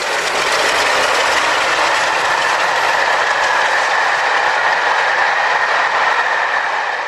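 Two Crompton Class 33 diesel locomotives hauling a charter train, a loud steady rumbling roar with rail noise and faint rhythmic clatter that holds evenly throughout, with no voices.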